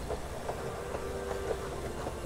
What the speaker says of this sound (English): The transport train.